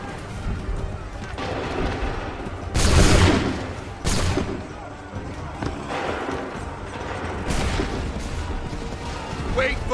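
Musket volleys in Assassin's Creed III, with ragged crackling gunfire from a line of soldiers and a couple of loud booming discharges over battle noise and shouting voices.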